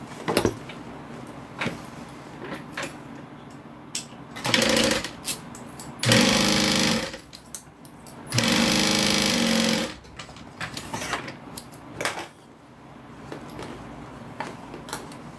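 Juki 1181 industrial sewing machine stitching up fabric bags, several close, loud runs of rapid whirring stitching lasting one to two seconds each, separated by pauses with small handling clicks and knocks.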